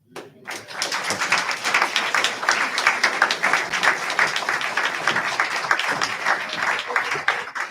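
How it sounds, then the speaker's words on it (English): An audience at a church service livestream bursts into applause, many hands clapping in a steady, sustained patter that builds quickly and holds for several seconds. "One round of applause."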